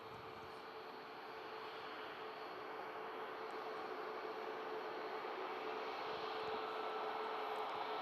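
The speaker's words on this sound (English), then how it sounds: "Ryanair 737 Max heading out to Malaga" A Ryanair Boeing 737 Max departs Manchester Airport, its jet engines producing a steady, distant rumbling roar with a faint tonal whine that grows slowly louder.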